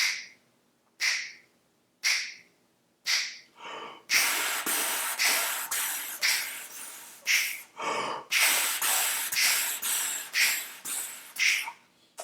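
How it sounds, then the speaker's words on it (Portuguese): Sharp, audible breaths drawn in close to the mic as trumpet breathing practice: four separate quick gasps, then a run of rapid, rhythmic inhale-exhale bursts. "Estou fazendo barulho só para te mostrar que eu estou respirando."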